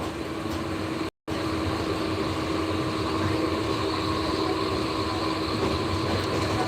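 Inside the Bijoy Express passenger train in Bangladesh, bound for Jamalpur, a steady, close rumble of the moving carriage continues throughout with faint rhythmic wheel clatter and no talk.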